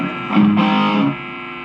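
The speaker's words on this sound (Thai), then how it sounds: "ผมจะตั้งเป็นเสียงแตกหนักนะ" A heavily distorted electric guitar chord through a Korg AX3000G multi-effects unit rings out, thick and fuzzy, swelling briefly before settling into a sustained buzzing tail.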